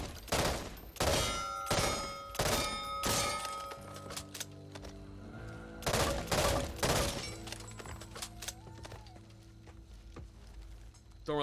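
M16A4 rifle fired in the video game Back 4 Blood, a series of sharp, loud automatic bursts with pauses between them, followed by quieter game sounds and a final burst at the end.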